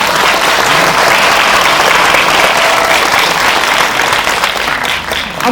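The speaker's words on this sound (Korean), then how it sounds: "박수 한번 부탁드릴게요." Loud, steady applause from a packed audience at a film screening and Q&A for the Korean movie 'Hero', continuous dense clapping that dips slightly toward the end.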